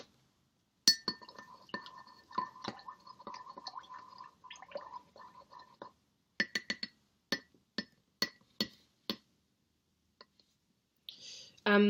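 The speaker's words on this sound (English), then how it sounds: "Is it really wrong if I stir this with a pen?" A pen stirs a drink in a glass, producing close, light clinking taps against the glass, first in a quick irregular flurry, then in a slower series of separate clinks with short pauses between.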